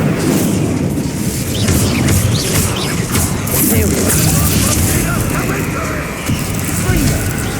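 Repeated Confringo fire-spell explosions in the Hogwarts Legacy video game, booming and crashing densely and loudly one after another over a noisy combat mix, with a voice calling out over them.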